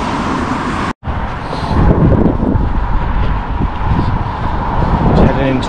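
Steady roar of traffic on the A57 road near Ladybower Reservoir in the Peak District, heard outdoors from a walking route and mixed with heavy wind buffeting on the microphone, with a brief dropout near the start.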